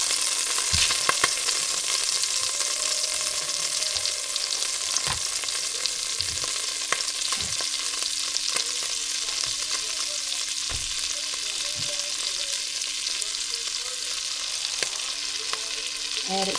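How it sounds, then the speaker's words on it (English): Kerrygold butter sizzles loudly in a pot of turkey neck drippings, with a spoon scraping the bottom in repeated sharp strokes over a steady frying hiss, close up and without talk. "So after I added that Kerrygold butter, I started scraping those drippings up that I was talking about at the bottom of the pot."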